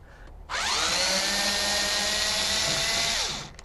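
Powered screwdriver backing out Phillips head screws during a subwoofer install, a steady close whirring drone lasting about three seconds that starts abruptly and then winds down.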